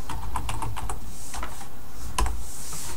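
Keys clatter in quick bursts of typing on a computer keyboard, close and steady, with no voices over it.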